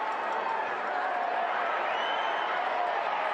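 A stadium crowd at a USL soccer match between Tampa Bay Rowdies and North Carolina FC, a steady dense roar of voices and murmuring with no distinct peaks.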